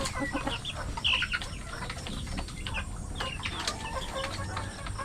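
Hens cluck softly while laying eggs in a small backyard flock, with scattered short calls and faint rustling over low, steady background noise.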